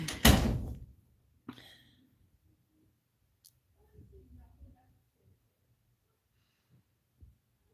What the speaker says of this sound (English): You can close this door if it makes it easier.